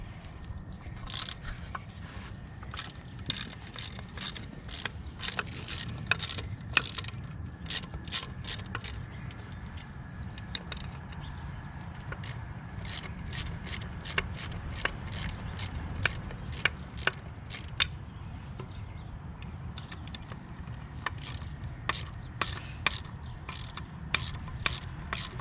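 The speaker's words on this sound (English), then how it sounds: "take out these 3 Allen wrench, or yeah, 3 cap screws using your 5mm Allen wrench" Three cap screws are backed out with a 5mm Allen wrench during a Flyby baffle install on a 765 Toce exhaust, giving a faint run of sharp ratcheting clicks and metallic ticks over a quiet background.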